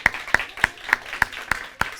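Sharp, evenly spaced claps come roughly every third of a second, seven strikes in a steady rhythm, as an audience at an Independence Day program applauds a performer, with no talk over them.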